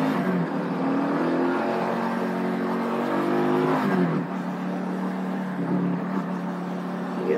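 A Vitacci XMT 250 motorcycle accelerates with a rising, revving engine tone through the gears, loud and close with wind noise, dipping briefly before pulling again.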